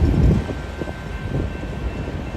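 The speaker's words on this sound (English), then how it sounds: "This looks like a coal train to me." A Union Pacific coal train rolls past at College Station, Texas, a steady loud low rumble of railcars with wind buffeting the microphone throughout.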